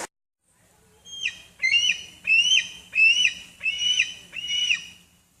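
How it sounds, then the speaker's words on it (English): A hawk gives a series of about five sharp, high calls in a steady rhythm, fairly clear over a quiet outdoor background at a campground in Bayfield, Wisconsin. "I think it's a hawk."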